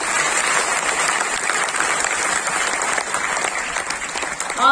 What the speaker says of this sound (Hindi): तालियों के माध्यम से।